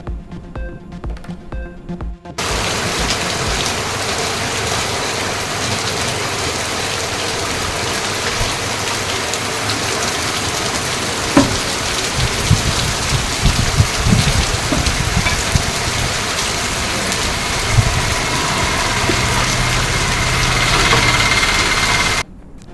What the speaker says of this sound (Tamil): தமிழகத்தின் பல்வேறு பகுதிகளில் இடி மின்னலுடன் பரவலாக பெய்த மழை.